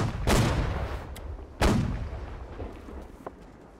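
Naval cannon fire in Holdfast: Nations At War: two heavy booming shots about a second apart, each rolling out into a long rumbling decay, followed by fainter distant thuds.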